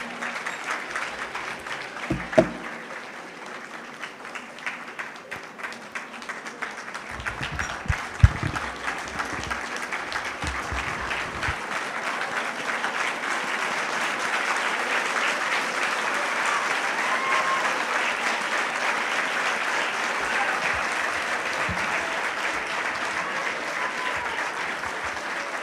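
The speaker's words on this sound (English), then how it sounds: "Loud claps. Loud claps." Loud audience applause at a National Youth Day celebration marking Swami Vivekananda's birthday. It starts as scattered claps with a few sharp individual hits and builds to a dense, sustained roar of clapping that fills the second half.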